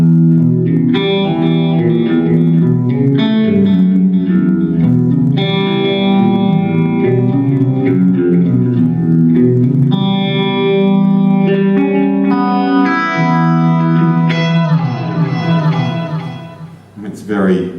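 Sustained electric guitar chords and notes, swirling with a sweeping phase effect and trailing delay echoes, loud and continuous.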